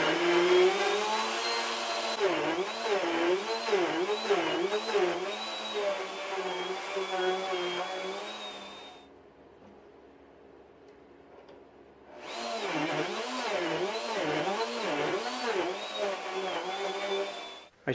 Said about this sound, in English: I'm going to cut the slots on my slot mortiser